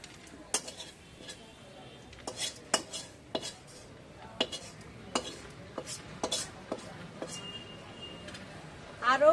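Vegetable filling for steamed pitha scraped out of a pan, with a series of sharp metallic spoon taps and clinks against the pan at an irregular pace, fairly close and moderately loud.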